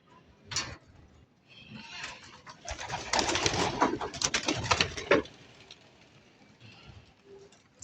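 Racing pigeons cooing inside a loft, a dense rolling chorus of low throaty coos that swells in the middle, close, with a few wing and shuffling sounds and no talk.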